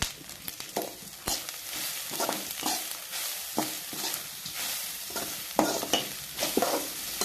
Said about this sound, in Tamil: நல்லா தேங்காயை நல்லா வதக்குங்க.